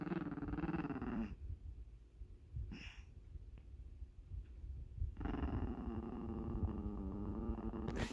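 A small teacup puppy growls while tugging at a monkey toy, low rumbling growls in two close bursts with a quiet breathy gap between them.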